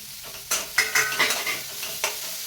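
Green chillies sizzle in hot oil in a pan with several quick stirring and scraping strokes from a spoon. The sound is close and fairly loud, with no speech.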